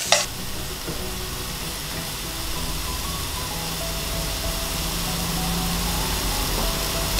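Thinly sliced shiitake mushrooms sauté in a hot frying pan with a little olive oil and salt, giving a loud, continuous close sizzle with a sharp clatter at the start and no talk.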